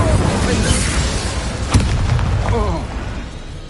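An Incendio fire spell cast in Hogwarts Legacy erupts as a loud, continuous roaring burst with a sharp crack partway through and whooshing swirls fading toward the end.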